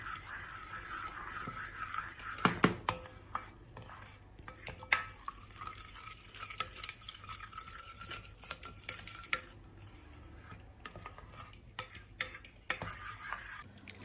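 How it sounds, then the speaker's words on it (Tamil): A spoon stirs chicken tikka marinade ingredients together in a bowl, giving soft scraping with scattered light clinks and taps, quiet and close, with no one talking. "எல்லா பொருளும் ஒன்றா கலந்து வர வரைக்கும் மிக்ஸ் பண்ணிக்கோங்க."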